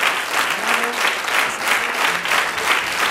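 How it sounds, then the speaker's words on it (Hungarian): An audience applauds a teenage violinist after a Vivaldi Four Seasons performance at a classical music competition semifinal, with dense, steady clapping in gentle waves throughout and no talking. "tapsolj, neked tapsolnak."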